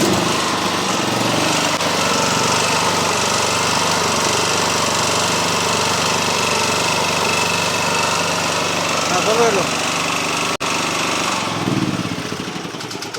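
A small pull-start engine, sold used alongside old sound equipment, runs continuously with a loud, steady rattling drone, while voices talk over it near the end.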